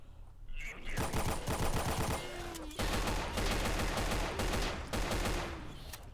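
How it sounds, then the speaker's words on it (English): Shots from a pistol in the game Doom ring out in rapid, sustained volleys, loud and close, with short breaks between dense bursts of cracking fire. "This pistol's overpowered, dude."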